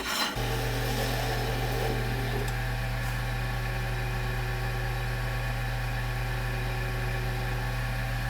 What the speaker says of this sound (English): we are down to sanding